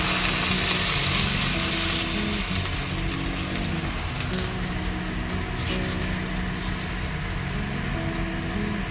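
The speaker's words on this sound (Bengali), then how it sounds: "এখন জল দিয়ে দেবো।" Water poured into a pan of fried spice paste sets off a loud, steady sizzle and bubbling hiss that continues without a break while cooking a fish curry.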